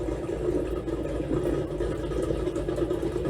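A 1991 Chevrolet Camaro Z28 with an LS engine swap idles with a low, even rumble and faint mechanical clatter. It sounds steady and moderately quiet throughout.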